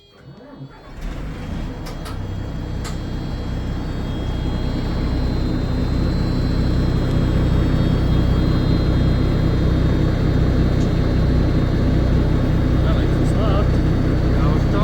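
A Bison military vehicle's engine cranks and catches in the first second, then settles into a loud, steady low rumble that grows slightly fuller and holds for the rest of the time, with no talking.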